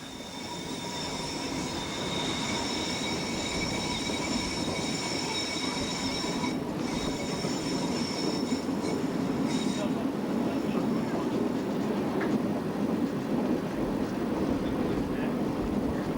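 A train rumbles steadily along the rails on the Catalan coast with faint high squealing tones from the wheels, a continuous close roar throughout.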